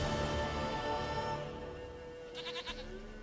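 A goat named Princess bleats in The Witcher 3, a short wavering cry near the end over a low hum of game ambience, quiet and at moderate distance.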